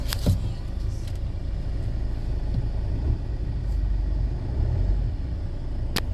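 A Land Rover Freelander 2, fitted with a new throttle body, idles steadily just after being started with the push button, a low, even engine rumble with a few light clicks and knocks around it.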